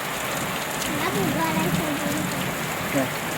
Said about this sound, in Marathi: अक्षरशः पाऊस जबरदस्त सुरू झालेला आहे